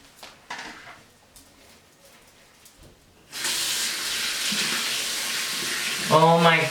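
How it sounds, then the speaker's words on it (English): Water pours steadily from a tap or bath faucet while a foot is rinsed off, a close, continuous splashing rush that starts abruptly after a quieter stretch of small handling sounds, with a brief vocal sound near the end. "I'm gonna wash off the foot"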